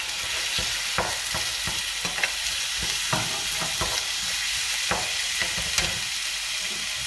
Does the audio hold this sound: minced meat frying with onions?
yes